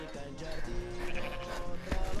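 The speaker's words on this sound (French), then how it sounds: "On entend les moutons." Sheep at a villa in Sicily bleat faintly in the background while a person talks over them outdoors.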